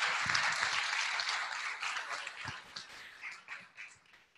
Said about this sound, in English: Would you guys give Don a round of applause?